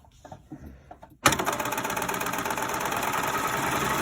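After a few soft clicks, a serger starts up and runs steadily, a close, even mechanical whir with rapid stitching chatter.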